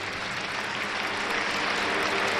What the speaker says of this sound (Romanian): Aplauze de încurajare pentru ucrainiancă.